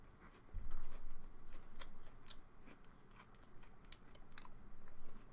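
Dry keto cereal crunches up close with each chew, a steady run of crisp crackling bites without milk, no talk, and a low background rumble.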